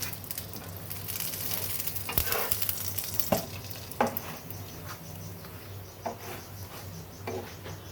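Paratha frying in ghee in a pan, a steady soft sizzle with occasional faint stirring taps and small pops, quiet and close, with no speech.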